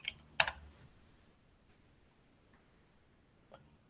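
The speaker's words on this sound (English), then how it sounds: "So I'm just typing hello." Typing on a computer keyboard during an online oil and gas training webinar: a short quick burst of key clicks at the start, then near silence with one more faint tap later.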